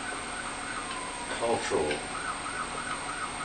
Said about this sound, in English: And the ambulance is on its way again for me, as usual.